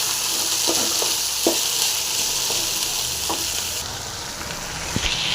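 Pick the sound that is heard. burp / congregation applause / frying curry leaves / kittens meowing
frying curry leaves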